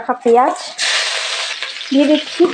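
Crushed garlic hits hot mustard oil in a wok and sizzles loudly in a bright, hissing burst that then settles into a steady fry. Someone speaks before and after it.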